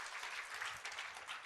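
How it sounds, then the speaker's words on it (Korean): Brief burst of congregation clapping at a Sunday church worship service, a dense, even patter of many hands throughout. "이런 걸 박수 쳐야 되는 거예요."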